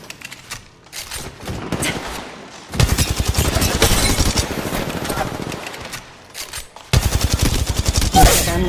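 Rapid automatic gunfire from the Apex Legends Mobile video game rattles in long loud bursts, broken by short pauses and a few scattered single shots before the bursts resume.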